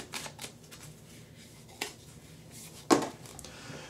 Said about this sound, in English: All right, let's see what the Whispering Woods wants to whisper to us. We're gonna shuffle,